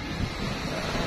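Sea waves wash steadily around a pumpboat in Malimono, with gusting wind buffeting the microphone throughout a short, fairly loud stretch of rough water.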